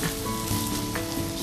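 Meat fries in a hot pan on a cooking show, giving a steady, dense sizzle and crackle that stays loud and close for the whole moment, with no voices over it.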